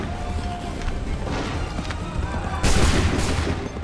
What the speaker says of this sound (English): Wait for the signal. Make ready. Open fire.